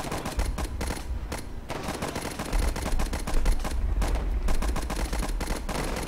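Machine gun fire from a squad in Warfare 1917, a World War I strategy game: dense, continuous rapid bursts rattling throughout, loud and layered with overlapping guns and low rumbling.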